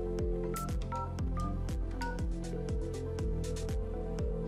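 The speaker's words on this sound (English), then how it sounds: "I'm going to dial another extension." A Grandstream GRP26xx VoIP desk phone dials an extension, giving a quick run of short DTMF tones, each beep paired with a faint button click, steady and close.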